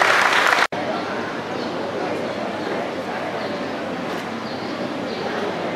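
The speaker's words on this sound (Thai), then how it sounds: "ขอเสียงปรบมือดังๆอีกครั้งครับ" Audience at a school graduation certificate ceremony applauding, a steady dense wash of clapping from a crowd that continues evenly after a brief cut, moderately distant and fairly loud.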